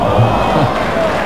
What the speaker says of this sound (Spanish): aplausos, sonrisas y todo lo demás para Diego Armando Maradona.